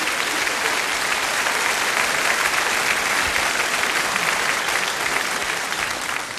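Thick, sustained applause from a large studio audience at a televised Austrian folk music show in Bruck an der Mur. It is an even, loud roar of clapping that holds steady for over six seconds and eases slightly at the end.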